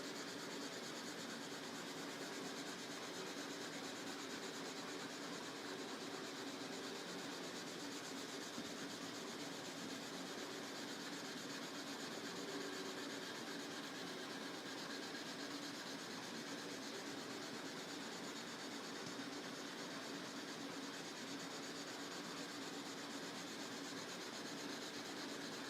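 Crayon rubbing steadily across a drawing page as a picture is colored in, a continuous close, soft scratchy friction with no pauses and no talking.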